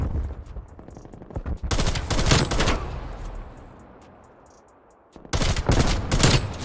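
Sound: gunfire from video game Call of Duty Cold War

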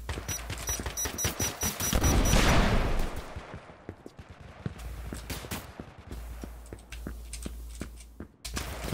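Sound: gunfire in video game Exverse FPS

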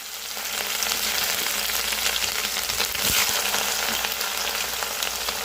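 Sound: frying ivy gourd (tindora) on the stove

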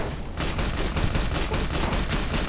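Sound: gunshot in Fallout: New Vegas video game

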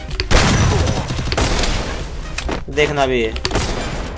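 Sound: gunfire in a shooting video game

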